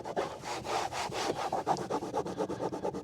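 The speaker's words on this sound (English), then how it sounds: "Scrub it on out." A brush scrubs a stain out of the interior upholstery of a Honda Accord, producing rapid rhythmic back-and-forth rubbing strokes, close and fairly loud, with no talking.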